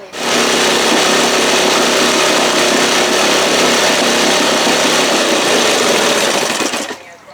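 A 1974 Johnson 25 hp outboard motor with a bent crankshaft runs loud and close for about seven seconds, a steady, harsh, buzzing roar that cuts out abruptly at the end.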